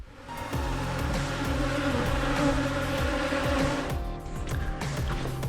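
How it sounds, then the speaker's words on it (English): Bees drone around a sailboat cockpit in the Sea of Cortez, a steady close buzz rising in after a moment and holding, with a few knocks, then thinning near the end. "We had a couple of bees coming to the cockpit, and that's a bad sign."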